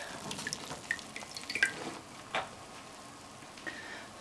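Soaked pinto beans are rinsed under running water, giving a faint, steady trickle with scattered drips and small clicks of beans shifting in the bowl, with no voices.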